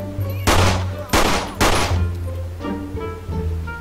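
Pistol fire in GTA 5 during a zombie survival mode: three sharp, loud shots about half a second apart, followed by fainter echoing tails and a low steady hum beneath.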